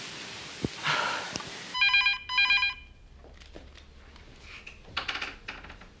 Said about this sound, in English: This phone's been ringing all morning.